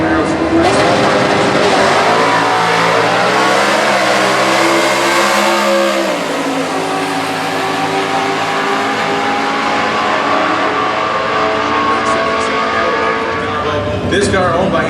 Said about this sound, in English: Tim Gillum, the E-Stock 4-speed 1970 Camaro with a 350 under the hood